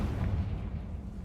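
Confringo blast spell in the Hogwarts Legacy video game, a low, muffled boom that rumbles briefly and then fades, heard faint and alone.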